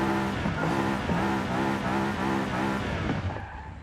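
A car engine in Forza Horizon 5 revs in rhythmic pulses, its pitch rising and falling, loud and close, then easing off at the end.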